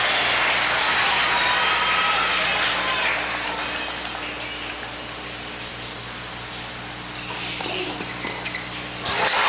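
A tennis crowd applauds as Rafter levels at one set all in the 1998 Cincinnati final against Sampras, a broad sustained clapping roar that eases off, then swells slightly again.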